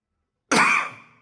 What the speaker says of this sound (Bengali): আমারও কাশিও হয়েছে ভালো মতো